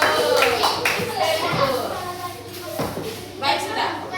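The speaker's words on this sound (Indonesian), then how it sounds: "tepuk tangan untuk kelompok 3." Schoolchildren clapping for a group during a classroom lesson on computational thinking, uneven claps mixed with shuffling and kids' chatter throughout.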